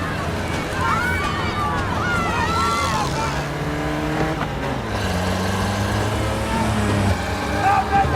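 Cars roar past in a car race, engines revving and rising and falling in pitch as they accelerate, with a voice talking over the steady motor noise throughout.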